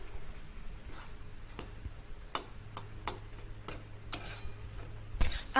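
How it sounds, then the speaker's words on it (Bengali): Apple, date and raisin chutney stirred in a pan, with a spoon ticking and tapping against the pan at irregular intervals over a low steady background, close and fairly quiet. "আপেল, খেজুর, কিশমিশ সব ভালো করে মিশিয়ে নিচ্ছি।"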